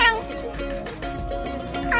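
A happy pet cat meows several times in quick succession, close and fairly loud, with light background sound.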